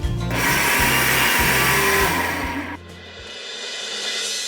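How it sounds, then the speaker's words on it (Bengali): An electric blender whirs through carrot ring cake batter with vanilla essence and a pinch of salt. Loud, steady motor noise with a few brief dips drops to a quieter, lower whir after about three seconds. "এইবার এটাকে একটু ব্লেন্ড করব।"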